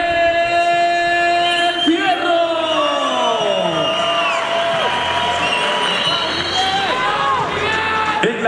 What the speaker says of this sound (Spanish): Señoras y señores, recibamos con un fortísimo aplauso a Miguel Ángel Fierro.